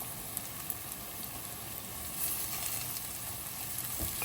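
Crushed ginger and garlic frying in oil in a pan for a Malabar stuffed chicken dish, a steady faint hiss of sizzling that swells slightly partway through, with no talking.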